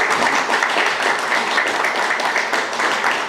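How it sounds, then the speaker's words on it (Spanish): Audience applause at a Farmacias Cruz Azul and Emelec healthy-fan campaign presentation, a loud, steady burst of many people clapping close by, continuous throughout. "Un aplauso, por favor."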